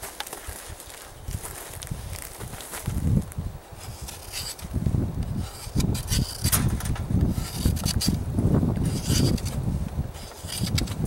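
Knife shaving curls off a wooden stick to make kindling for a wood-burning camp stove outdoors in winter, with repeated soft scraping and rasping strokes up close and faint rustling in between.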